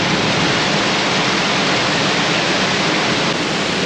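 A waterfall at Granite Hot Springs, Wyoming, roars in a loud, steady, unbroken rush of water that fills the whole clip; no voices.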